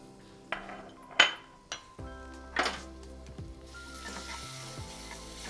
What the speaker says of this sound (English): we'll gently saute the garlic with cumin seeds